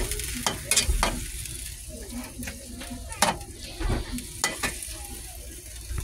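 Sliced carrots frying and sizzling in a pan for stir-fried pancit canton, with a steady hiss broken by several sharp scraping stirs of a utensil against the pan, close and fairly loud.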